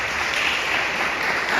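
Applause for contestants at a basic schools science and mathematics quiz, a dense, loud wash of many hands clapping that holds steady and continuous throughout, with no voices over it.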